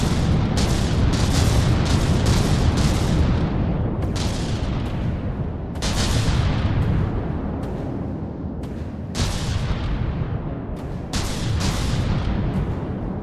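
Heavy cannon fire pounds a battleship in the video game From the Depths, a relentless run of loud booms and blasts with brief gaps, close and rumbling throughout.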